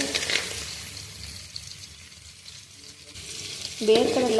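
Food, including roasted peanuts, sizzles and scrapes in a hot pan as it is stirred for a simple lemon dish, with a steady frying hiss and occasional utensil clatter, no talking.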